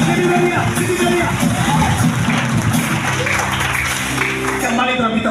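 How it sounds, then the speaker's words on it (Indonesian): A church congregation applauds and cheers in a steady, dense wash of clapping that stays loud throughout, mixed with crowd noise and background music. "Tepuk tangan yang paling meriah"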